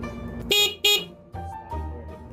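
A stock motorcycle horn beeps twice in quick succession, two short bright honks over a low engine idle.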